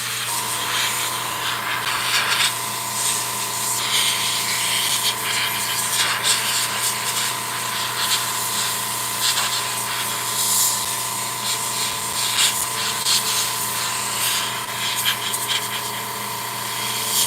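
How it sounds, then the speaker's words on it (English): An airbrush blows air to dry hairspray on a model Sherman tank, giving a steady, continuous hiss that runs unbroken for the whole stretch with no talking. "Now I'm going to take my airbrush again, and I'm going to dry this again now."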